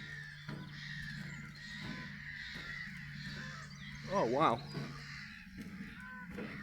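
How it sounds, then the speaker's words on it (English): Birds call around a lake at a nature reserve, with a crow-like caw rising briefly over steady outdoor ambience and a low hum, while someone speaks close by. "Lots of birds."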